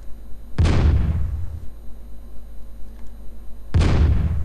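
Cannons fire in the naval strategy game Svea Rike II: two heavy, booming blasts about three seconds apart, each with a deep rumbling tail, loud and close, with no speech.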